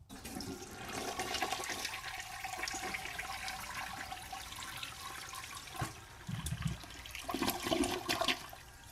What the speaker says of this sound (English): we got to flush it.